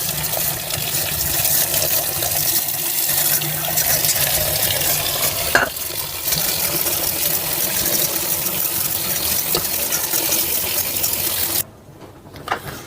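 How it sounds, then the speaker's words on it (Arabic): Boiled potatoes are drained and cold water is poured over them in a home kitchen, making a steady, close rushing and splashing of water for about eleven seconds before it cuts off, followed by faint clatters. "هبدا ان انا اصفيها واكب عليها ميه ساقعه"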